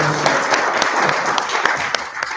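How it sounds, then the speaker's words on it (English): A roomful of people claps steadily in a community gathering after a talk about local environmental wonders, a dense, even patter of hands close and loud with no voices over it. "one round of applause for Nyla Neely"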